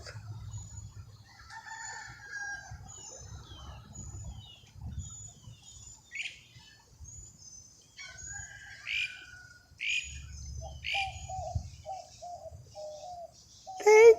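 Wild birds chirp and call outdoors in scattered short bursts, mostly faint and distant, with one louder call at the very end over a soft low rumble.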